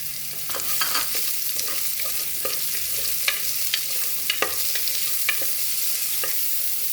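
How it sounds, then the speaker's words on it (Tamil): Soya chunks and curry leaves frying in a pan for soya kurma, a steady broadband sizzle with sharp utensil scrapes and clicks of stirring scattered throughout, close and fairly loud, no talking. "கருவேப்பிலை இந்த சோயா போட்டு இதில் ஃப்ரை பண்ணுங்கள்"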